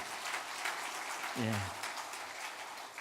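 A church congregation applauds during a Sunday Parents' Day service, a dense, even round of clapping with a brief voice rising over it partway through.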